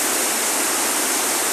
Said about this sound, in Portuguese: Olha lá a queda da água lá, como é bonito